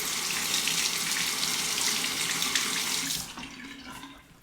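A bathroom tap runs steadily for a razor rinse during a wet shave, a broad close hiss of flowing water that cuts off abruptly near the end, leaving brief quiet.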